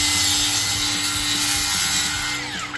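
A saw cuts a notch off the end of an aluminum fence rail, a loud continuous grinding rasp with a steady hum that holds throughout and eases slightly at the end, close by.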